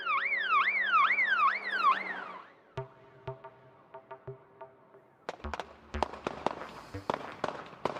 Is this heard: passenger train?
no